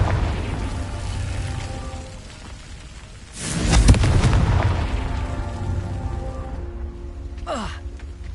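A Confringo blasting spell explodes in Hogwarts Legacy with a loud, broad boom after a low rumbling stretch, followed by a decaying roar and a brief whooshing burst near the end.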